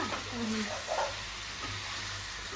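Pieces of murrel fish fry in a pan for a tamarind fish stew, giving a steady close sizzle with brief stirring scrapes and faint background voices.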